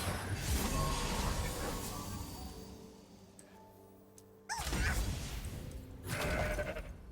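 A mountain goat bleats in the Legends of Runeterra card game, heard as short wavering bleats over loud, busy game effects and whooshes, with a crash-like impact midway.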